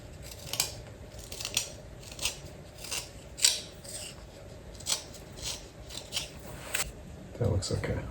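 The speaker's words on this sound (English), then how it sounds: "Sharpen the pencil." Pencil sharpened by hand in a woodworking shop during a chopstick build, a series of short dry scraping strokes at a steady pace, fairly faint and close, with a muffled bump near the end.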